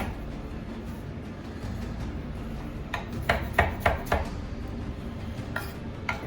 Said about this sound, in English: You want to cut it into fairly small pieces.